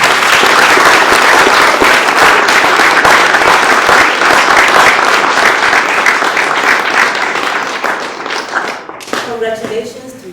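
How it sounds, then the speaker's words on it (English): An audience at a scholarship launch event breaks into sustained clapping, loud and full at first, then thinning out and fading near the end as a voice begins to speak. "I invite you all to join me in a round of applause in celebration of this"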